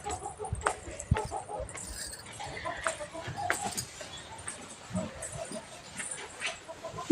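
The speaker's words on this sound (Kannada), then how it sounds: "ಇಷ್ಟು ಬೇಗ ಹೋಯ್ತಿದ್ದಾರೆ ನಮ್ಮ ಕೋಳಿಗಳು" Household hens cluck intermittently around a rural homestead, scattered soft calls with clatter and movement nearby, moderately close.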